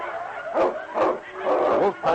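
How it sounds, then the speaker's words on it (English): Dogs snarl, yip and growl in bursts during a fight staged for an old-time radio drama, with a sled dog battling wolves. The sounds come close and loud in repeated rising cries. "The sound of the wind was split by snarls and growls of fury."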